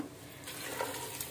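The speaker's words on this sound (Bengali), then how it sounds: "এবার পরিমাণ মতো পানি দিব" Water is poured into a pressure cooker of leafy-green khichuri, a soft continuous splashing rush close by and fairly faint, with no talking.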